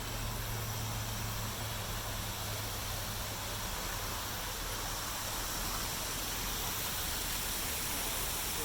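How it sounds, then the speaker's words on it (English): A waterfall beside the Louisville Loop hiking trail gives a constant, dense broadband rush of falling water, loud and steady with no voices. "here's some sounds of the waterfall you'll hear as you're walking up."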